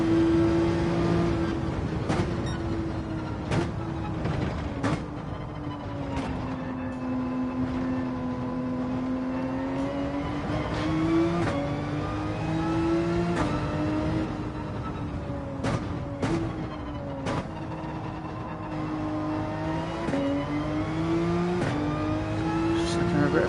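A GT3 race car engine in a racing video game at Mount Panorama drones steadily and shifts pitch up and down through the gears, loud and continuous, with a voice talking over it.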